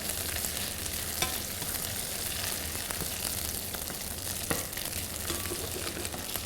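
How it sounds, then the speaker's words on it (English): Prawns fry in oil and butter with a steady, dense crackling sizzle, close and even throughout, with a few faint utensil clicks and no talking, while cooking for a prawn bisque. "I want these prawns to be lightly roasted, lightly fried before I add the following ingredients."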